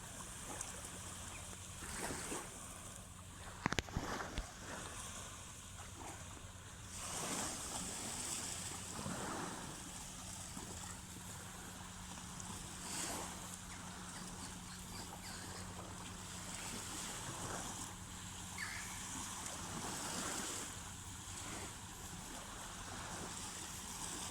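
Waves wash in steadily against a shore, broadband surf mixed with wind noise, with a sharp knock early on and a low hum beneath.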